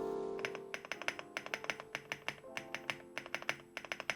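Keys on an FL-ESPORTS OG87 retro mechanical keyboard with multi-layer sound-dampening foam typed in a steady run of crisp, close clacks, each keystroke distinct, over faint background hum and no talk.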